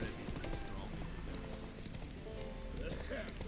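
Horse hooves clip-clop steadily in the video game Witcher 3: The Wild Hunt, a rhythmic trot heard throughout with people talking over it.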